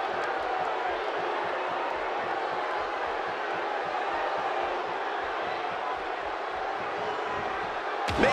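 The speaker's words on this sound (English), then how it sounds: "You can hear this crowd." A large crowd at a women's wrestling event roars in a steady, dense wash of cheering that fills the whole stretch, with rhythmic stomping or clapping pulses underneath and a sharper burst at the end.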